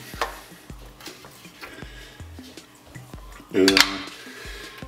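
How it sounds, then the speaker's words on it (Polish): A knife cuts bacon into small pieces on a board, making a run of light, irregular taps and chops, followed by a brief louder clatter of kitchenware near the end. "Najpierw tutaj kroję sobie boczek w takie mniejsze kawałki."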